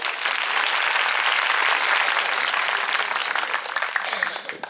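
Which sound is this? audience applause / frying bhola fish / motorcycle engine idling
audience applause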